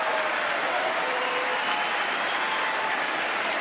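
A large audience in the House chamber applauds and cheers during a presidential State of the Union address, a dense, loud, sustained wash of clapping that holds steady throughout.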